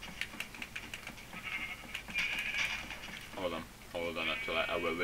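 Synthetic sheep bleats sound amid Minecraft game noise and clicking, with a voice talking over parts of it.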